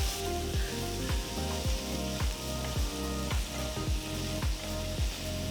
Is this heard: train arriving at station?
no